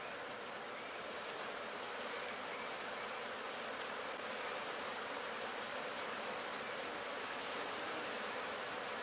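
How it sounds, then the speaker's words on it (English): Honey bees swarm around an opened hive during queen-cell work in Mississippi, a dense, continuous buzzing that stays loud and close with no voices. "kind of rake some of the bees off so I don't have to fight all of them."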